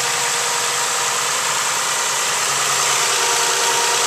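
A 2006 Toyota Sienna LE's 3.3-liter V6 idling with the hood open, a steady, even hum heard up close and loud, with no talk.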